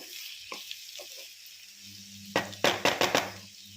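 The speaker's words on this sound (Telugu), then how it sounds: "అందుకే నేను నాస్టిక్ దానిలో వండుతున్నాను" Chilli curry cooking in a non-stick pan, with a soft steady sizzle and then a few quick, loud stirring scrapes near the end, close by.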